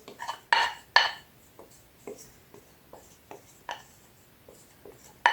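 Scraping and clinking of a spoon against a bowl while yeast mixture is poured into dough and stirred, a few sharp knocks followed by lighter irregular scrapes, close and alone.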